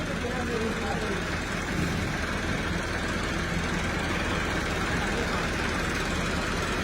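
A farm tractor engine runs steadily at idle, a dense low rumble that stays constant throughout, with voices talking faintly beneath it.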